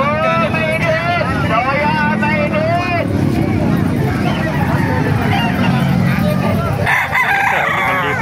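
Several roosters crowing at a market in Calumpit, with repeated loud crows over a busy background and people talking throughout.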